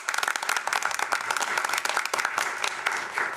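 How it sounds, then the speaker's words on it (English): A room at a county board of supervisors business meeting breaks into applause for the staff, steady dense clapping from many hands holding at a lively level throughout. "a round of applause to the staff for helping us so much"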